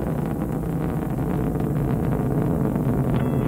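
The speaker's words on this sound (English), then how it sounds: "the solid rocket motors are increasing their thrust during their 75-second burn." A steady, dense roar of solid rocket motors and vernier engines burning during a Mars rover launch, constant and heavy with deep low rumble, no breaks or voices.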